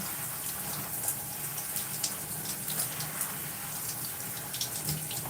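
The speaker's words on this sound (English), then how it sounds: "So I'm rinsing conditioner out of my hair." Steady running water from a tap or shower rinsing conditioner out of hair, a continuous even splashing hiss with small irregular spatters throughout and no talking.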